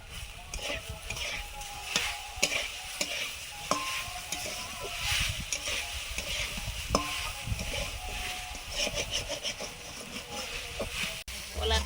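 Green banana slices frying in oil in a covered pan, giving a steady close sizzle and hiss with occasional stirring clinks and scrapes, while a person talks intermittently over the cooking.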